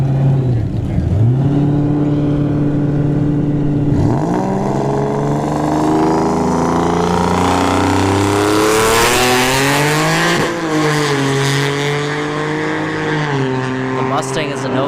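V6 Turbo car and a Dodge Charger drag racing at a dragstrip, loud engines revving and rising through gears together, with a brief drop and re-climb at a shift and someone talking over the roar.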